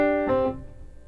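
A short blues lick on piano, two notes struck together then a quick follow-up note, ringing and fading over about a second, played alone.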